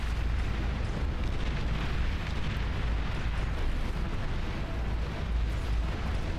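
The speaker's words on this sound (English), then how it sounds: "So much artillery." Continuous rumbling barrage of artillery explosions from a large battle in the real-time strategy game Beyond All Reason, dense and steady with no gaps, booming low end throughout.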